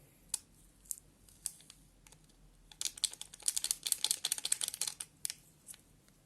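Crinkly plastic packaging of a Lipton tea bag sachet is torn open up close, starting with scattered sharp crackles and building to a dense burst of crinkling, then tapering off to a few last rustles.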